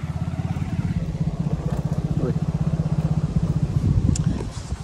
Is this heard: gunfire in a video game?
no